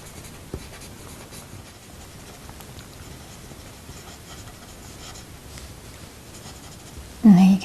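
Coloured pencil scribbling loose squiggly strokes over paper to suggest the knitted texture of a woollen jumper, a soft continuous scratchy rubbing heard up close and steady throughout, ending in a brief louder bump.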